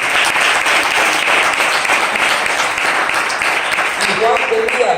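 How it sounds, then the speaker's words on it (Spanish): Sustained applause from a church congregation, a dense steady wash of clapping that stays loud and even throughout, with voices mixed in. "Denle un aplauso al Señor."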